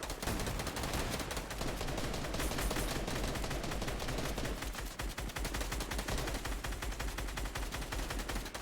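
Video game gunfire in a competitive online match, with rapid sustained automatic bursts that blur into a continuous loud rattle, heard alone without voices.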